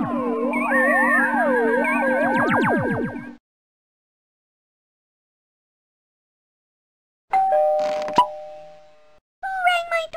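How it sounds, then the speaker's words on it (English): A doorbell chime in the Living Books computer game Harry and the Haunted House: cartoonish music plays first, then a long silence, then a clear ringing ding-dong tone followed by a short burst of sound. "Who rang my doorbell?"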